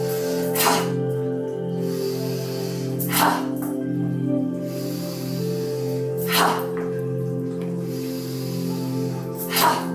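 Forceful exhaled breaths in a Hatha yoga exercise, four sharp bursts of air spaced a few seconds apart over a steady low background hum.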